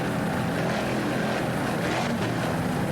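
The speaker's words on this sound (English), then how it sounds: "Powered by two 500 horsepower Mercury inboards." An offshore powerboat driven by two 500 hp Mercury inboard engines races in a Super V class offshore grand prix off Daytona, a steady loud engine roar with broad spray and wind noise throughout, no talk.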